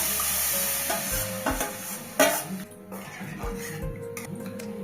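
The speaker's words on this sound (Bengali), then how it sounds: "এইবার সেদ্ধ করা ডালটাকে ঢেলে দিলাম।" Boiled dal is poured into a pan of cooked mangoes and stirred, with a soft sizzle and bubbling plus a few spoon clinks and scrapes against the pan, close and moderately loud.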